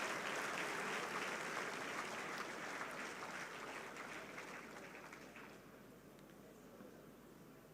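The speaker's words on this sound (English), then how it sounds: "Please give him a big round of applause" Sustained applause from a large conference audience at the opening ceremony of the Nigerian Society of Engineers annual conference in Ibadan, honouring an engineer; steady dense clapping that slowly thins toward the end, with no talk over it.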